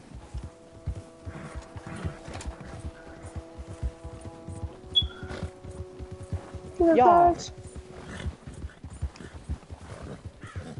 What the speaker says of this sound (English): because I have the fastest horse in the game right here